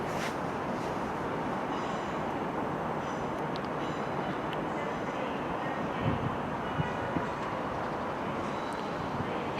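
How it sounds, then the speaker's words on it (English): Class 319 trains pulling into a Manchester station platform, a steady, loud, broad rumble of wheels and motors that runs throughout, with a few sharp metallic clanks toward the end. "And also coming in is another 319. 4 trains within a space of a couple of seconds."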